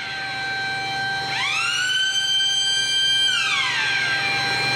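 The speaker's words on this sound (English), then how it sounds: "it will be the continuous rise and fall of a siren accompanied by flashing" A steady alarm siren rises sharply to a high sustained wail, holds, then slowly winds back down over a low background hum.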